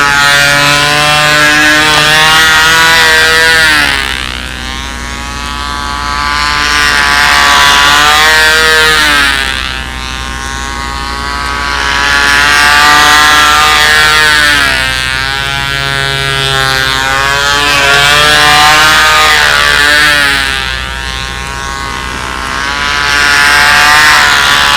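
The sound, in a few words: ignition engine of a model aircraft running at a fly-in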